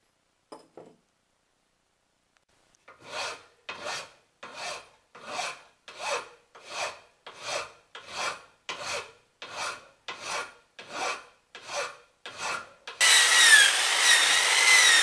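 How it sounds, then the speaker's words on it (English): Hand file rasping along an old steel axe head, about fourteen steady back-and-forth strokes in an even rhythm, close and clear, ending in a burst of broadband scraping noise. "I've also filed the edge down, which I will do also here and here. And then I will sharpen it once more"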